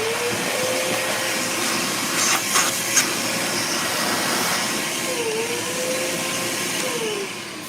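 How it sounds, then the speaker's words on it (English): A shop vacuum runs steadily for several seconds, sucking old feathers off a tabletop with a continuous loud whine, a few brief clatters of debris going up the hose midway. "I'm gonna turn this vacuum cleaner on for just a second to suck up all these old feathers."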